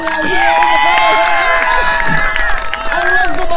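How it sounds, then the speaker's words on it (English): A lively crowd at a Renaissance fair combat event in Maine cheers and shouts for the fighters, with many voices overlapping in a loud, continuous roar close by. "Let's give a big round of applause to all of our amazing fighters"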